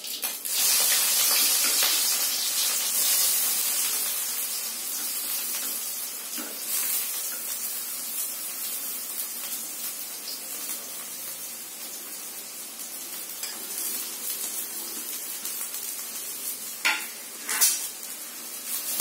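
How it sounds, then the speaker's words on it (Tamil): Chopped onions sizzle and crackle steadily in a hot pan with cumin seeds for an egg scramble, with occasional stirring scrapes and pops. "நல்லா நறுக்கின வெங்காயத்தோட நல்லா கலரி விடணும்"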